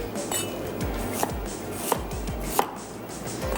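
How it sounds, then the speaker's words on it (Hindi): Onion being finely chopped on a board for chapli kabab, with sharp rapid knife taps repeating in an even rhythm, close and clear, a few louder knocks standing out. "प्याज को सिर्फ बारीक चॉप करना है।"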